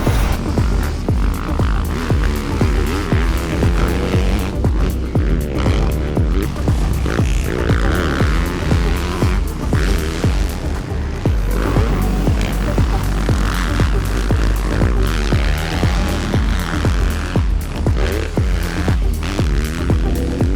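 A Yamaha YZ250F four-stroke 250cc dirt bike with a PC aftermarket exhaust pipe runs close and loud, a steady throbbing engine drone that holds for the whole stretch with little change in pitch.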